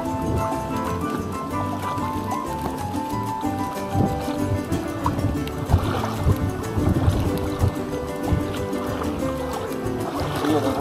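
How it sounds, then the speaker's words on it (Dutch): A boat's engine rumbles steadily nearby on the water, with wind buffeting the microphone and some splashing. "Een boot naast ons."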